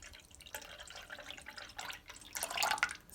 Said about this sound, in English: at this point, we're going to be adding our saffron infused water.